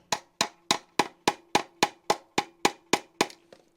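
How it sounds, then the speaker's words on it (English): Eleven sharp hammer strikes drive a piece through wood while building a traditional Japanese beehive, in a steady, even rhythm, each a crisp wooden knock, close and loud, with the last blow slightly softer. "and then hammer this through"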